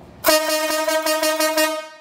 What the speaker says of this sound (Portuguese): Olha lá, galera, onde tá a buzina, ó.